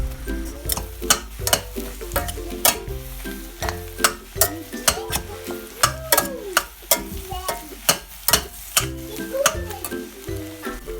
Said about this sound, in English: Now add the chopped inner part of zucchini.